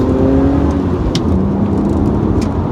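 A BMW Z4 3.0 with the M54 engine pulls hard through first and second gear, giving a loud, steady engine drone heard from inside the car, with a brief dip at the gear change.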